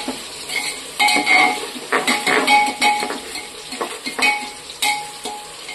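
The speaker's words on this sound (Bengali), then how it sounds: "এবার আমি পেঁয়াজটাকে একটু নেড়ে দিচ্ছি।" Sliced onions, about 250 grams, sizzle in hot oil in a pan while a utensil stirs them, giving irregular scraping and clinking bursts over a continuous frying hiss, close and fairly loud.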